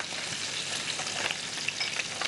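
Hot oil spluttering in a pan after turmeric powder is added for frying, a steady dense crackle with small sharp pops scattered throughout, close and fairly loud with no voices.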